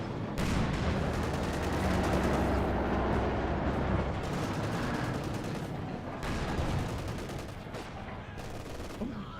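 Mortar fire and gunfire in Company of Heroes 2, dense overlapping rifle and machine-gun bursts with booming impacts, loud and continuous battle noise with brief pauses near the end.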